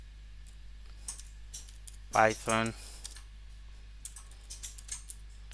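Clicky typing on a computer keyboard while setting up a Python coding environment, scattered light keystrokes at close range, with a single spoken word partway through.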